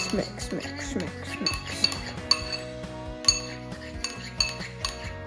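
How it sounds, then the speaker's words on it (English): A metal spoon mixing pasta salad in a bowl, with repeated ringing clinks and scrapes against the dish in an uneven stirring rhythm, close and clear. "now, we will get our spoon. Time to mix."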